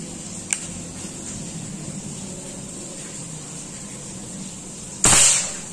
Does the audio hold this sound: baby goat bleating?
no